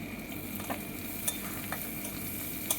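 Brinjal sautés with salt and turmeric in a pan, a steady low sizzle under occasional spatula scrapes and stirring clicks, close and fairly quiet.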